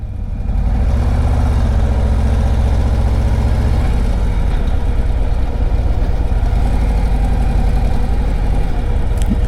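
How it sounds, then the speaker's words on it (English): A 2025 Harley-Davidson Road Glide motorcycle engine rumbles close and loud, a deep throbbing idle that shifts pitch around the four-second mark as the rider pulls away, then settles into a steady low drone. "Brad's riding the Road Glide."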